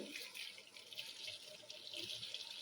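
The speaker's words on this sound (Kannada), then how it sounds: "ಈಗ ಇದಕ್ಕೆ ನೀರು ಹಾಕ್ತೀನಿ ನೋಡ್ರಿ" Water pours steadily into a bowl of flour in a soft, continuous trickling splash for a few seconds, close by and fairly quiet, with no talking.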